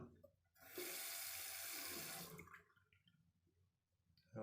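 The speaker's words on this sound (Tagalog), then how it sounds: "Lumakas na ang baba ng tubig." A strong rush of water draining down a bathroom sink after a clog is cleared pours for about two seconds, then drops to a quieter gurgling trickle, close by with no talking.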